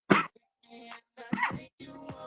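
A person coughs in several harsh, rasping bursts spaced over a couple of seconds, close and fairly loud, with brief quiet gaps between them.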